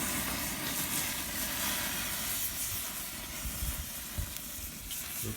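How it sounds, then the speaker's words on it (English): Steady, dense sizzling hiss of Santa Maria-style ribs cooking over a hot grill, continuous and close, with a few louder crackles. "Sizzle sounds awesome."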